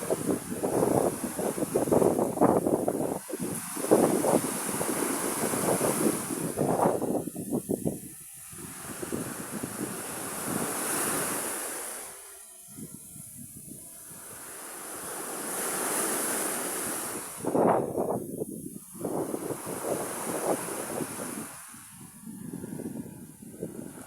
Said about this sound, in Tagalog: Mga kadagat ang alon.